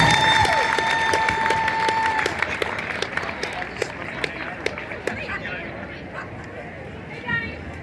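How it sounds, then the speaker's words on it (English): A crowd at a 5K run and walk event applauds a singer, scattered claps and cheers that thin out over several seconds, with voices and a tonal sound fading early on. "Let's give him a big round of applause one more time"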